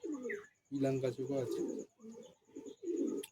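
Madras pigeons coo in a run of low, throaty calls with brief gaps between them, close by.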